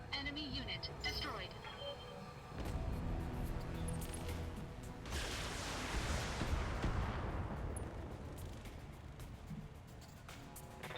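Turret weapons firing in the mech combat video game BattleTech, a series of booming blasts and rumbling impacts building to a heavy sustained barrage, with someone talking over the action.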